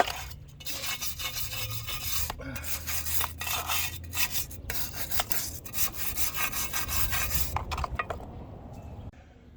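Degreased control arms from a 1974 Pontiac 455 Trans Am being scrubbed by hand after soaking in purple cleaner, a continuous rough rubbing and brushing at close range with brief pauses between strokes.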